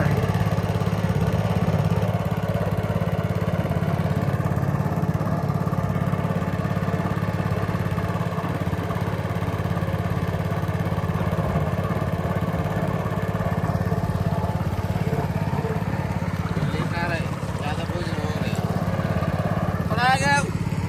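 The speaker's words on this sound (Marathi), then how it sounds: "आता आपण मोटर चालू करून जाऊया" Outboard motor on a small fishing boat running steadily, a loud continuous engine drone with a low hum throughout, nearby and unbroken, with a voice speaking over it.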